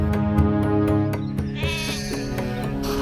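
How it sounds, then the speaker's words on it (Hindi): Sheep bleat repeatedly while being milked, several overlapping calls in steady succession, fairly loud and close with no talk over them. "हम भेड़ का दूध निकालने लगे"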